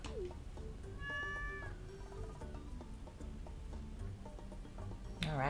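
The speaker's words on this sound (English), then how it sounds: "Alright, we got a cat." A cat in the Stardew Valley video game gives a few short meows over a low steady game background, with a louder cry at the end.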